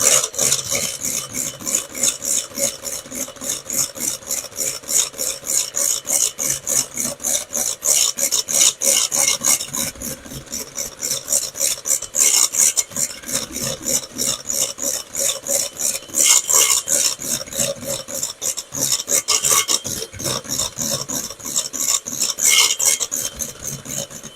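Eggs and sugar being beaten in a bowl, a fast rhythmic raspy scraping that keeps up steadily for a long stretch, close and fairly loud, with no talking over it.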